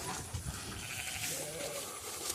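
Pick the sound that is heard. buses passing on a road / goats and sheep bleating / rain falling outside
goats and sheep bleating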